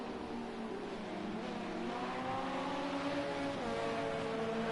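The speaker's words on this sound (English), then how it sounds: "Past the BMW, they both go now." Race cars at Le Mans passing a BMW, a steady engine drone that rises slightly in pitch as they go by, fairly distant with no talk.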